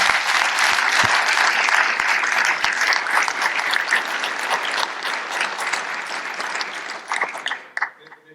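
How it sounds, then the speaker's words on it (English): Sustained audience applause at a climate and health summit fills the room, dense clapping from many hands at steady volume, tapering off near the end. "a big round of applause for our entire panel"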